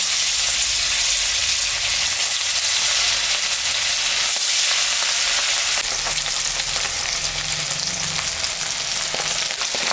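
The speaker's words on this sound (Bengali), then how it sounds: "তেলটা গরম হয়ে গেছে এখন আমি মাছটা ভাজি নি" Fish seasoned with salt and turmeric frying in hot mustard oil in a wok, a loud, steady, dense sizzle running unbroken for the whole stretch with no voices.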